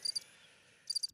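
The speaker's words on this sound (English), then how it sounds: "Man, the crickets." Crickets chirping in two short, faint, high trilling bursts at the start and end of a brief moment, with no talk.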